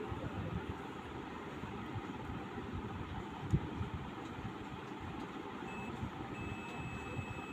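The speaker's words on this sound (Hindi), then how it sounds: "ये हमारा बीप का साउंड है, इसका मतलब कि हमारा नॉर्मली जो ओपन था वो नॉर्मली कनेक्टेड हो गया।" A relay tester on a PCB repair bench gives a steady electronic beep when the relay contacts close. The thin tone starts late and holds to the end, faint over a low background hum.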